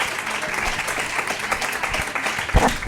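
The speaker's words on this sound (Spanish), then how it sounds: "Un aplauso a Un Pablo," Audience applause for Pablo Muñoz at a live end-of-season show, dense continuous clapping from a crowd, close and loud, steady for the whole stretch with a brief louder burst near the end.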